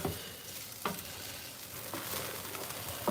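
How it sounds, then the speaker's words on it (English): Shrimp fried rice sizzles steadily in a pan, a continuous close frying hiss with a few sharper bursts as it is stirred and moved around, no talking. "You can hear it cooking, I hope."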